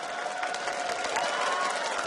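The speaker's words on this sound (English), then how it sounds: "Let's give them all a round of applause." Audience applause fills a League of Legends World Championship quarter-final esports event, a steady broadband wash of clapping mixed with crowd noise that holds evenly at moderate level throughout.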